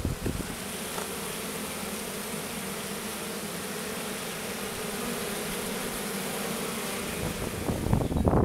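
A honey bee swarm buzzes in a dense, continuous drone, close and steady throughout, with some wind noise.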